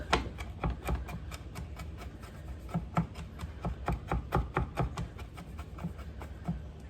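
Knife mincing zucchini, tomato or garlic on a cutting board for a grilled panini, quick rapid taps in an uneven rhythm, close and fairly quiet with no talking.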